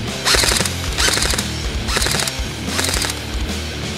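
G&G G4-A3 airsoft rifle with a 9.6 battery firing on full auto, sounding as several fast mechanical bursts of rapid clattering shots, loud and close, separated by brief gaps.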